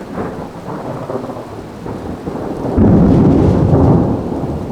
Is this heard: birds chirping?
no